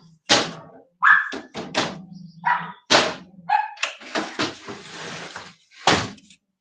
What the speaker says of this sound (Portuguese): porque ela tem 11 cachorros e mantém eles presos. Aí eles ficam latindo igual o cacete.